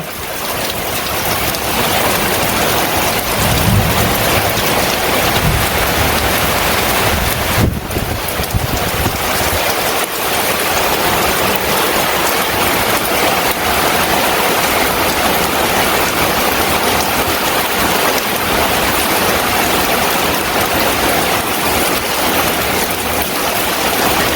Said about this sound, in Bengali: এই যে বৃষ্টিতে আর কি সব মাটি এই যে বৃষ্টির জলে ঢল যাইতেছে যে